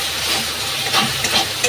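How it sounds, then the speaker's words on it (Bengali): Spices and tomatoes fry in a wok, giving a loud, close, continuous sizzle with the scrape and shuffle of stirring and a few sharper spits, with no speech. "এবার আমি এটা দিয়ে দেবো, দিয়ে নাড়াচাড়া করলেই আমার মশলাটা আরোই ভাজা হয়ে যাবে।"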